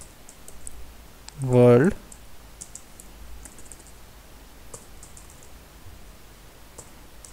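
Typing on a computer keyboard in a quiet room, light scattered key clicks across the stretch, with a brief spoken word near the start.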